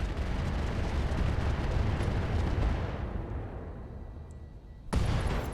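A heavy weapon fires in a video game, a sustained roaring blast that rumbles loudly for several seconds, fades out, then bursts back with another sudden loud shot near the end.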